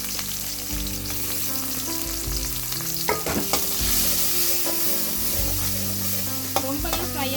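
A large onion fries in hot oil in a pan for veg noodles, a continuous loud sizzle broken by repeated scraping stirs of a spoon against the pan, close up with no voices.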